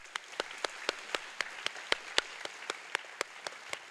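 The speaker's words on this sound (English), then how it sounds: "if we could have one final round of applause for our guest speaker today" A small audience claps for a guest speaker at a school keynote, the sharp individual claps sparse and fairly faint, coming at a steady, spaced pace against quiet room tone.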